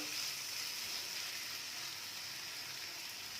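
Mutton keema masala with tomatoes cooking over a medium gas flame, giving a continuous, even hiss and sizzle at moderate volume throughout, with no voices.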